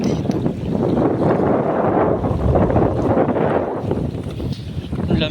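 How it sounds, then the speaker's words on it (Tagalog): Steady, strong wind buffeting the microphone, a continuous low roar with gusty swells throughout. "Ang lakas ng hangin."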